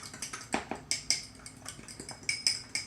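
A spoon clinks and scrapes in a bowl while onion powder, Old Bay and olive oil are mixed for shrimp, giving a close, steady run of light metallic taps with no talking.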